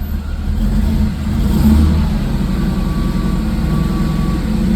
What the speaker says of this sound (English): I'm gonna give it a little throttle.